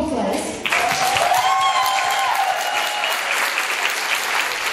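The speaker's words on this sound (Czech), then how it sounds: "děti si zaslouží ještě pořádný potlesk" An audience applauds children at a local community event, breaking into loud, sustained clapping that fills the room after a brief moment, with a few voices and a faint tone audible under the applause.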